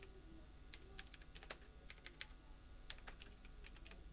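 Quiet clicking of keys on a computer keyboard while text is entered into a CorelDraw box, an irregular run of close, light taps with brief pauses and no talking.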